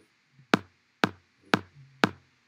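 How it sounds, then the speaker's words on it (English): An 808 kit sub kick drum in the BandLab beatmaker plays four evenly spaced, punchy hits about half a second apart, each with a deep low boom and a sharp click. "I'm going to add a sub kick."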